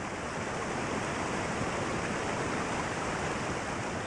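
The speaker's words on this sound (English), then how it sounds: "the area is starting to fill up with water" Rushing water flooding an area in the video game Raw Danger, a dense, constant broadband torrent with no breaks and no voices.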